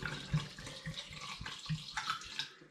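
Cider sample being poured from a demijohn into a hydrometer tube for a gravity reading, a short steady liquid trickle close by with small splashy pulses, no talking.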